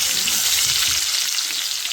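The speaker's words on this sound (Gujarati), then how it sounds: "તો લસણને હલાવી દેવાનું." Garlic frying in hot oil with spices and a pinch of asafoetida while it is stirred in the pan: a loud, steady, dense sizzle that runs unbroken throughout, with no voices.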